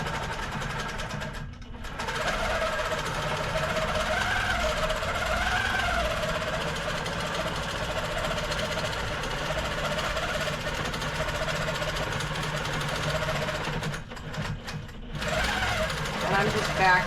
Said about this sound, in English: And I'm just back stitching on the corners there.